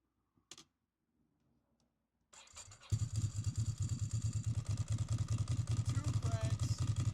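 A 2006 Ducati Monster S2R motorcycle cranks briefly, then its engine catches and settles into a steady, loud, throbbing idle nearby, with faint clicks before the start.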